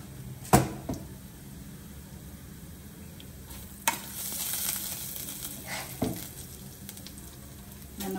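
Ingredients for Telugu roti pachadi fry in a pan with a continuous low sizzle, broken by three sharp utensil clanks spaced a few seconds apart, with no voices.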